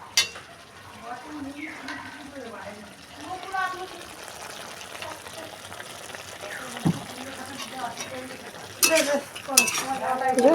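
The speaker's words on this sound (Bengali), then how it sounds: "একটু সুন্দর করে নাড়িয়ে নেব তারপরে আলুগুলো দেবো" Onion paste being stirred in a pan while cooking country chicken curry, with soft scraping and light sizzling, intermittent utensil clinks and a louder clatter near the end, under talk.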